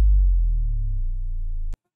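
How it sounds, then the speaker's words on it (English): A synthesized sub drop, a deep low tone sliding slowly downward in pitch, sustained loud and alone for nearly two seconds before cutting off abruptly. "The next thing is just a sub drop that I made."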